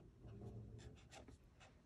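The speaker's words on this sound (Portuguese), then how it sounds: "Eu vou escrever aqui." A pen scratches across the page of a paper planner in short close strokes, quiet and unaccompanied by speech.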